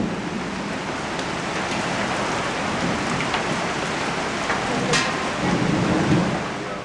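A thunderstorm pours heavy rain with hail, producing a dense, continuous roar of drumming drops that swells slightly toward the end, with no voices present.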